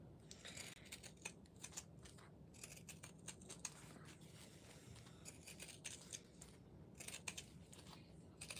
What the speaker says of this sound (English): I'm gonna take my my pinking shears.